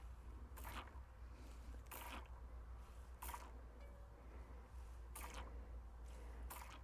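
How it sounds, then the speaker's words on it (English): Tubeless tire sealant in a Vittoria Corsa Pro tire makes soft repeated hissing squirts and faint bubbling gurgles every second or so over a steady low hum, with no talking. "We want to hear a little bubbling, a little gurgling action."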